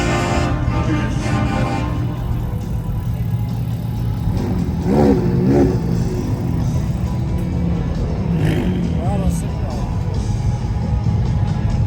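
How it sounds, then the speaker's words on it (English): An Aston Martin car rolls past during a cruise of exotic and custom cars through Las Vegas, giving a loud steady engine drone with a brief rise in revs, while someone talks over it throughout. "Aston Martin rolling by."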